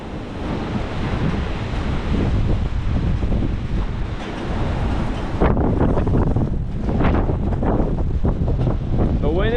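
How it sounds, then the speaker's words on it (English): Strong, steady wind roars during a major windstorm in the Ohio Valley ahead of an approaching cold front, buffeting the microphone with a continuous loud rush that swells and gusts harder partway through. "The wind is becoming more consistent too."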